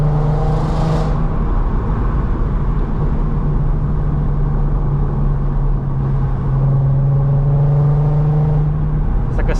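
A VW Golf R32 engine droning steadily while driving, a sustained low hum that grows louder and rises in pitch toward the end, heard from inside the car.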